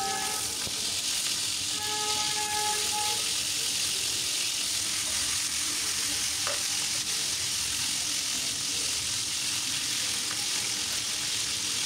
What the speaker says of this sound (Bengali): তেল দিয়ে এখন আমি চিকেনগুলো খুব সুন্দর করে ভেজে নিব।